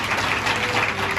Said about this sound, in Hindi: परमेश्वर की महिमा के लिए ताली बजाएंगे।